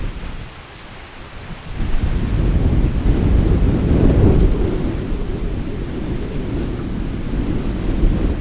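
Strong wind gusting across a lake shore on a blustery day, a dense low roar that swells after a quieter opening and keeps buffeting the microphone steadily to the end.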